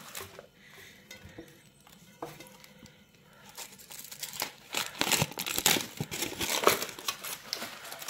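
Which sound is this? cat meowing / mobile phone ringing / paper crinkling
paper crinkling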